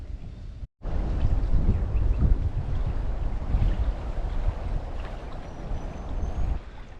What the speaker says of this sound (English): I've got back down to the estuary here and it's blowing a gale